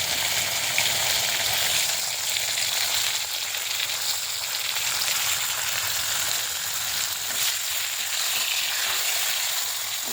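Boiled flat beans fry in a pan with a loud, continuous sizzle that stays even and steady throughout, with no voices.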